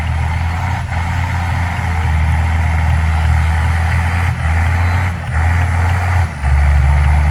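Powerful truck engine, the strongest vehicle in a village, running loud and close with a steady heavy rumble and brief dips, no talk over it.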